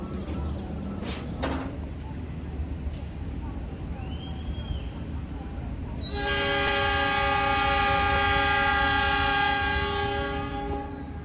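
The Arjuno Ekspres passenger train departs Bangil station in Pasuruan, giving a low rumble with a few clacks, then a loud sustained multi-tone horn blast for several seconds.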